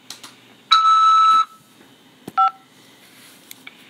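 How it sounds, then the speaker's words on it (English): Telephone keypad tones while accepting an incoming call from a Nebraska prison: a clear sustained dial tone of under a second, then a shorter second beep and a few faint clicks. "press 5 to accept this call"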